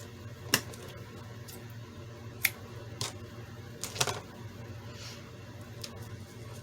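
Paper being cut with scissors during journal decorating, a handful of crisp, separate snips spaced irregularly over a quiet room hum, with no talk.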